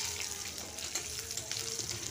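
Crushed garlic frying in hot oil for lentil dal, a continuous close hiss and crackle of sizzling throughout.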